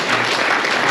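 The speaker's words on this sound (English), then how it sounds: "So a round of applause for those folks that made this" A roomful of guests at a pickleball awards banquet claps in a dense, steady burst of applause, close and loud for a short moment.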